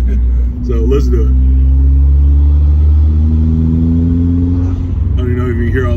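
A 2011 Hyundai Genesis Coupe 2.0T with a turbocharged engine pulls hard from inside the cabin, a loud, close engine drone rising steadily in pitch with a faint airy rush over it, while people talk briefly at the start and end.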